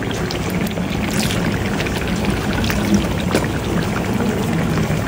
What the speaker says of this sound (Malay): kita nak masukkan santan